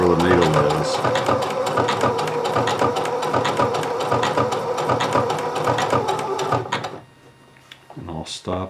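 Sewing machine stitching shorts fabric in a long continuous run, loud and close with a rapid needle rhythm for about seven seconds before stopping, then a brief faint click.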